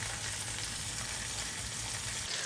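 Speckled trout fillets fry in a hot pan, giving a steady, close, dense sizzle and crackle with no talk.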